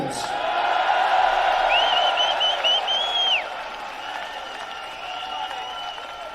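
A rally crowd applauds and cheers in a dense, steady roar, with a few whistles and whoops rising above it before the noise eases slightly.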